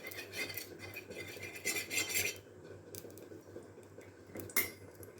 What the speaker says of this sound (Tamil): இப்போது நல்லா துழவி விட்டுடலாம்